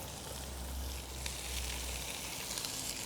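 Onions and garlic sizzle in rendered brisket fat for Texas-style chili, a soft, continuous frying hiss at low level with no voices.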